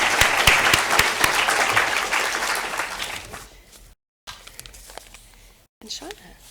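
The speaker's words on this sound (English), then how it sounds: "So a big round of applause for everyone sitting here tonight because you've all contributed." An audience at an evening annual general meeting and celebration claps loudly and densely, then the applause thins into scattered claps and fades with a few sounds of people moving.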